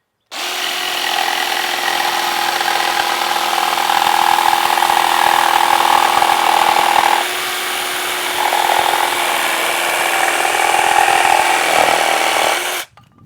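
A Craftsman 20-volt battery jigsaw cuts continuously for about twelve seconds, a loud close buzzing rattle with a slight shift in pitch midway, starting and stopping abruptly.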